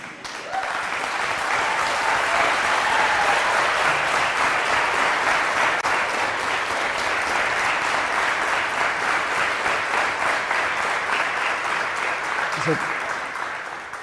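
Sustained audience applause fills a TEDx talk venue, a dense, steady wash of many hands clapping that holds loud and even for the whole stretch before fading slightly at the end.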